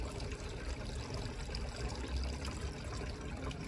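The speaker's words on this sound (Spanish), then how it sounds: "Esta fuente lo que yo hago, porque es de circuito cerrado" A closed-circuit water fountain runs steadily, its water trickling and splashing in a continuous, even wash with no voices.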